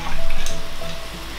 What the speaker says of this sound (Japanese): 結構煮詰めちゃいます。